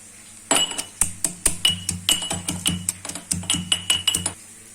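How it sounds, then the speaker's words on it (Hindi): Cloves, green and black cardamom and cinnamon pounded in a mortar while making mutton curry: a steady run of about twenty close, sharp knocks with a metallic clink, spaced unevenly, with no talk. "जब तक हमारा प्याज पक रहा है तब तक हम लौंग, छोटी इलायची, बड़ी इलायची, दालचीनी को हम कूट लेंगे।"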